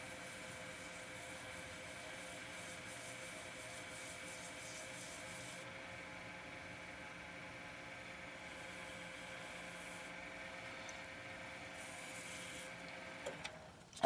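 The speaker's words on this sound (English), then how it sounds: "all I'm doing right now is sanding it out." Steady, quiet rubbing of sandpaper by hand on resin and wood, a soft continuous scratching with a brief knock at the end.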